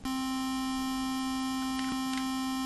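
Two steady square-wave chiptune notes from GB Studio's GBT Player, a low bass note and a higher note on top, sound together as one continuous buzzy tone held for under three seconds.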